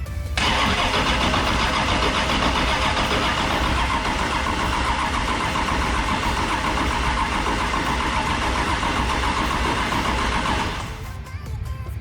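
An LS turbo engine cranks over in a 1956 Chevrolet Bel Air, a loud, continuous starter churn running about ten seconds without catching, then cutting off to quieter background.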